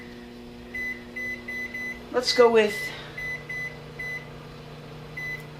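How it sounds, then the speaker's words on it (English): A series of short electronic keypad beeps from a microwave oven, in quick runs, with a person talking over them partway through. "Now this is just your standard microwave, so you can pretty much just set it to 11 minutes."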